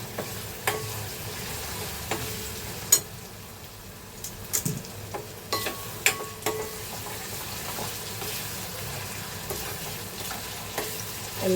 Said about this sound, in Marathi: लसूण पण मस्त आपण शिजवून घेऊया